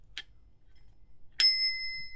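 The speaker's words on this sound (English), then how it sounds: "a crane bell." Two crisp rings from a Crane brass bicycle bell, a brief ding early on and a louder ring about a second later that leaves a clear, lingering metallic tone in an otherwise quiet room.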